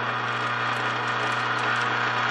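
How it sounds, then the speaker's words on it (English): A bearing grooving tool rotates steadily while cutting full-groove bearings for a Dodge Viper engine, giving a continuous, loud mechanical hum with a constant pitch and no pauses. "So now our bearing tool is rotating"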